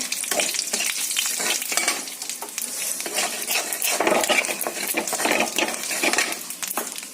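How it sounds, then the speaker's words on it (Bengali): Cumin seeds and dried red chillies fry in hot oil with a loud, steady crackling sizzle, punctuated by spoon stirs and clinks of utensils against the pan, close up with no voices. "এবার দিয়ে দেবো ওর মধ্যে একটুখানি জিরে দিয়ে দেবো শুকনো লঙ্কা"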